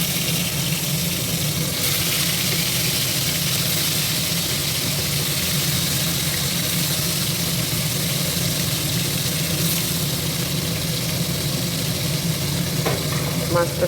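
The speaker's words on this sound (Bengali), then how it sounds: "মাছটা সুন্দর করে এপিট ওপিট করে ভেজে নেব।" Koi fish frying in hot oil in a pan, a steady close sizzle that runs without a break, with faint clinks and stirring near the end.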